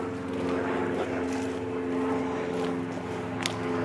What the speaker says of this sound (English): there's another airplane going overhead